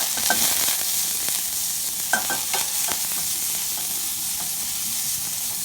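Ground turkey burger mixture with sage, garlic powder, onion powder, salt and pepper is stirred in a hot pan, giving steady sizzling frying hiss broken by scattered soft scraping clicks of the spoon, no talking.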